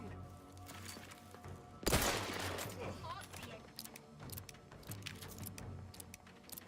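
Video-game gunfire in The Outer Worlds 2: a sudden loud burst of shots followed by scattered firing and combat noise, with game voices talking underneath.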